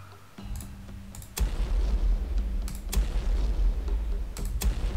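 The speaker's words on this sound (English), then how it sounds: "let's do this shore bombardment" Heavy 16-inch battleship guns fire a shore bombardment in the War on the Sea naval game, booming repeatedly through a sustained low rumble with sharp transient cracks and clicks scattered throughout.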